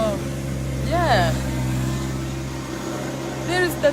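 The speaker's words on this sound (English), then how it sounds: "there is the tractor" A tractor engine runs on an organic vegetable and fruit farm in Hawaii, giving a steady low droning hum throughout while a voice talks over it.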